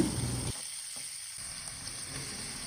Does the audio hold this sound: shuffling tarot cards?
no